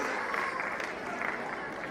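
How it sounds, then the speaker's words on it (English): Applause from students and an audience fills a hall during a school annual prize distribution ceremony, a thick continuous patter of clapping heard from some distance with voices mixed in. "A huge round of applause is expected."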